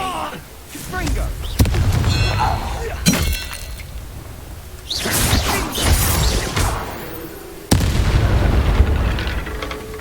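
Confringo spell blasts go off in Hogwarts Legacy as loud booming explosions and crashes, several in a row, layered under shouted voices.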